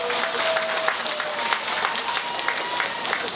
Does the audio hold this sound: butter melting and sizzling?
no